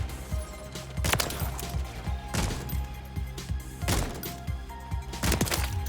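Gunfire in Call of Duty Modern Warfare 3 beta multiplayer, several sharp separate shots spaced about a second apart with crackling echoes over a busy, rumbling game background.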